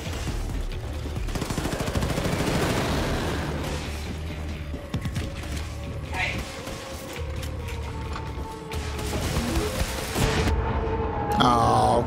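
Gunfire in the Wolfenstein video game, with dense rapid bursts and mechanical clatter running almost continuously at close range, loud and layered over game ambience.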